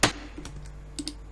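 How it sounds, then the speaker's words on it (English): A firm tap followed by several lighter, quick clicks on a hollow plastic surface, close by and fairly quiet. "There's a tappy on the bottom of the container."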